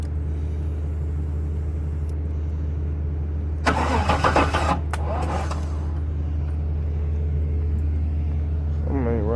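A Chevy box car with an LS swap engine idles with a steady low rumble, then cranks and restarts with a loud burst of starter whine and revving before settling back to idle, close by.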